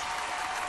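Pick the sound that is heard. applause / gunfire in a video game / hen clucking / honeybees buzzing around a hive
applause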